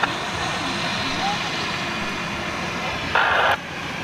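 Thai Airways Boeing 777 jet engines during takeoff at Zurich airport, a distant, steady broad roar holding throughout, with a brief brighter burst near the end.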